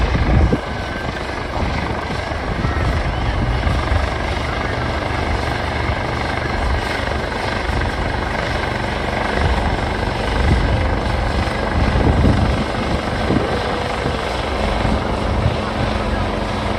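A helicopter flies at an air show, a loud sustained rotor and engine roar filling the air steadily, with possible crowd or voices faintly underneath.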